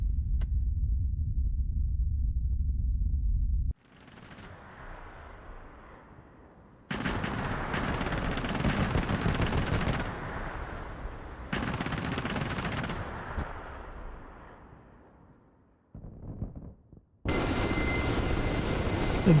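Gun emplacement fire in the flight simulator game DCS, with loud sustained bursts of automatic fire broken by gaps and a quieter aircraft drone between them.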